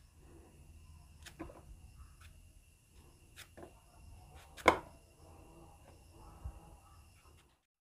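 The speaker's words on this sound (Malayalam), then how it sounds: "ഞാനിപ്പോൾ രണ്ട് കായം അരിഞ്ഞെടുത്തിട്ടുണ്ട്" A knife chopping raw plantain on a board, with sparse quiet cuts and taps at irregular intervals and one sharper, louder knock near the middle, all fairly faint and close.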